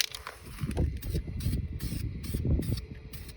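Spray paint can laying down a light first coat on an 1991 Formula 1 car part in quick short streaks, a steady close hiss with repeated brief bursts and pauses throughout.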